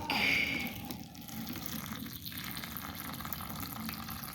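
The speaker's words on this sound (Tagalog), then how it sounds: "Lagyan na natin ng tubig." Water pours and splashes steadily at close range into a tarantula enclosure, with a brief brighter trickle at the start, continuing without pause.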